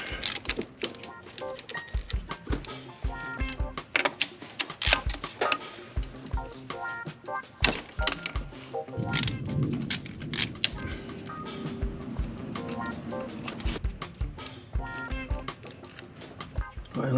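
A ratcheting wrench works loose 13 mm bolts from a bracket on an MK4 Golf during a clutch job. Quick metallic clicking bursts alternate with clunks and knocks of tools and metal, close and fairly loud, with no talk.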